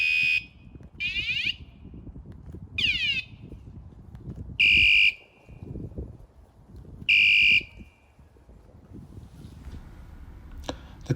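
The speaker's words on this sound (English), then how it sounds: "the bell labeled button plays the chosen alarm" An electric scooter alarm, triggered from its remote, sounds in repeated loud shrill bursts of warbling, rising tones, separated by short gaps of quiet background.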